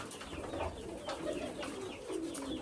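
Pigeons coo softly and repeatedly in a farmyard setting in Punjab, low rolling calls overlapping one another against a steady background hum.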